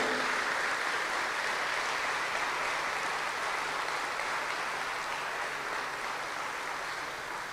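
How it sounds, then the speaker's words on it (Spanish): A church congregation applauds during a sermon, with a steady, dense wash of clapping that holds at an even level throughout and has no voices over it. "Dale un aplauso, es su palabra."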